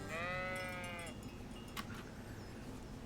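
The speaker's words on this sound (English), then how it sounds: "Look at the sheep!" A single sheep bleats once in Kingdom Come: Deliverance, a wavering, moderately near call over faint ambient outdoor background, with a short click afterward.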